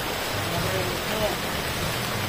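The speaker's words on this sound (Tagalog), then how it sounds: "Inabot ng ulan!" Steady rain pours down outdoors, a dense, even hiss of drops on surfaces that holds for the whole moment, with faint voices mixed in underneath.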